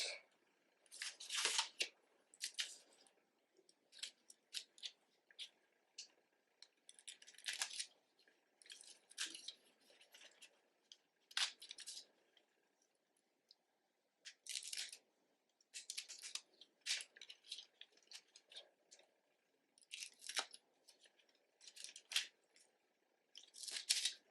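Scissors snipping through heat-transfer foil for a T-shirt, close and fairly quiet, in short irregular bursts of crisp cuts separated by brief pauses.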